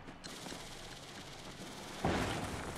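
A sudden explosion goes off in Paper Mario: The Thousand-Year Door, a sharp, loud burst that breaks a quiet background hiss near the end and then lingers as a noisy decay.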